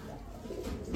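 Racing pigeons from a Bangladeshi racing club coo softly in a low, steady murmur through a one-second stretch, with a faint rise near the end.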